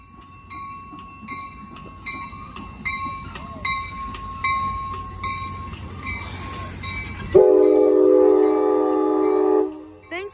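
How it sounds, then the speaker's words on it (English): An Amtrak San Joaquin train 714, led by cab car 8303, rumbles past with a ringing bell, then a loud, sustained train horn blasts for a couple of seconds before cutting off. "Thanks for that horn show."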